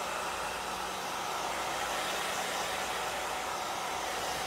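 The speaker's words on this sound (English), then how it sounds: "I'm just going to hit this again with my hairdryer" A hair dryer blows steadily and loudly at close range over a chalk-transfer graphic tee, a continuous broadband whoosh with no talking.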